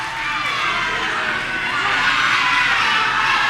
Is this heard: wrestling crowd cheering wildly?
yes